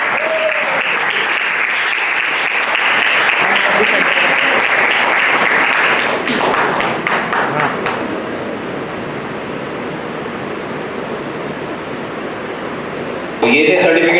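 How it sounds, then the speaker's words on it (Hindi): Enthusiastic applause at an award ceremony for the orator of the month, a dense loud roar of many hands lasting several seconds, then fading into softer scattered clapping and crowd murmur before a voice starts. "इनके लिए एक जोरदार तालियां।"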